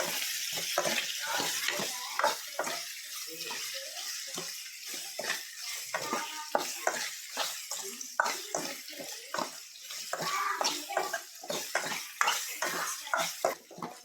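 Chopped pumpkin with green chillies and salt sautés in a pan, giving a continuous sizzle broken by repeated stirring scrapes, close and moderately loud, with no talking over it.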